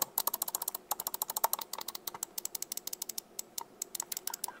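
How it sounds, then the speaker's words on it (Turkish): A white wired and wireless RGB Rampage Nova M4 gaming mouse being clicked, a close, crisp run of rapid plastic clicks in uneven bursts against a quiet background. "Tıklama ses hissiyatına da bakalım."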